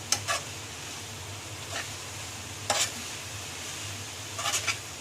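Stirring a mixture in a pan over a flame, with a few brief, soft scraping strokes spread across a quiet background of gentle sizzling and a low hum.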